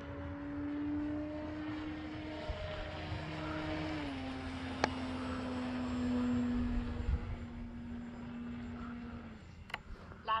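An E-flite T-28 RC model airplane flies slowly past, its propeller engine droning steadily at moderate distance, the pitch dipping slightly as it passes, with light wind noise and occasional clicks.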